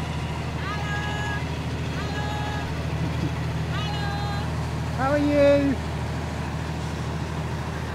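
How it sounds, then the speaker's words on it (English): A deep, steady local ferry engine drones close by in drizzle, swelling briefly as it passes a sailboat, while people talk over the low rumble. "Could this boat come any closer?"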